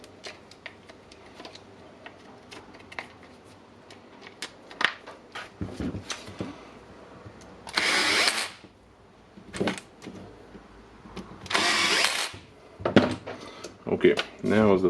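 Reassembled Makita DDF484 cordless drill run as a test, with two short whirring bursts of about a second each amid clicks and handling noises, while a person talks.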